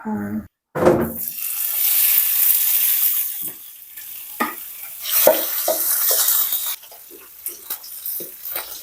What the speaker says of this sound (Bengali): হলুদ মরিচ দিয়ে মেখে নিলাম এখন হালকা করে ভেজে নিই সরিষার তেল